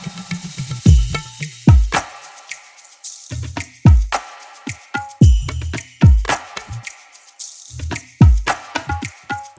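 Chorus drum section for a song, built in Ableton Live: punchy low kicks and sharp snare-like hits in a steady, repeating groove, loud and up close with no other instruments.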